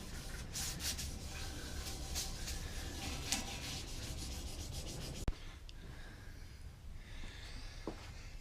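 Sandpaper rubs back and forth across a painted wooden coal box in steady, rhythmic strokes, then stops abruptly, leaving a quieter scraping and faint movement.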